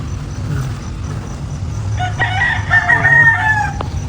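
Farm chickens with a rooster crowing loudly and close, a drawn-out call rising over a low background rumble and soft clucks.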